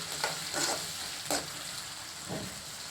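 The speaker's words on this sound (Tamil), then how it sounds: "வெங்காயம் கொஞ்சம் நல்லா வதங்கட்டும்." Chopped onion frying in oil with cashews and green chilli, a low steady sizzle with a few stirring scrapes, close but fairly quiet and without talk.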